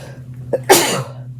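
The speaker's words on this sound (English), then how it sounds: "I'm going to sneeze." One sharp sneeze bursts out after a small quick intake of breath, close and loud in a quiet room.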